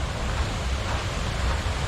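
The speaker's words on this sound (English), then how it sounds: "Look at the waterfall." A winter waterfall at Old Mill Park, partly frozen with ice behind the falling water, gives a steady, dense broadband rush that stays even and continuous throughout with no talking.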